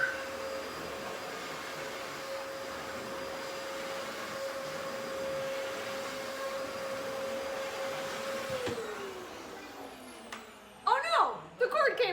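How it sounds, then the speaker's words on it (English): Household vacuum cleaner droning loudly and steadily, then cutting out with a falling whine as its motor winds down, followed by brief louder handling sounds. "find the on and off switch on your button on your vacuum and turn it on."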